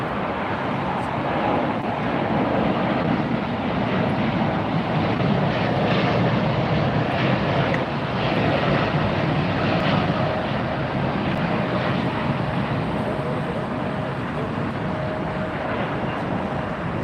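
A jet airliner climbs away after takeoff at LAX, its engines producing a loud, steady broadband roar that holds for the whole stretch with no talk over it.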